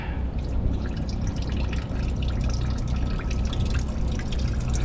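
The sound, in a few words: fluid draining from JCB telehandler drain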